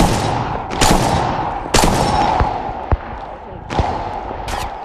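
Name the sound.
gunfire in Apex Legends Mobile video game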